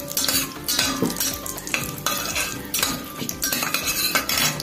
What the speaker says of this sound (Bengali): একটু হালকা সামান্য নেড়ে চেড়ে নিয়ে কাজুটা দিয়ে দেবো আর তেজপাতা দিয়ে দেবো।